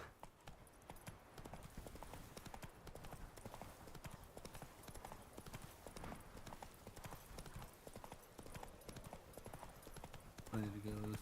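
Rhythmic clip-clop of a horse galloping across ground in the video game The Witcher 3: Wild Hunt, a fast steady hoofbeat pattern with a brief whinny near the end, while a person talks over the game.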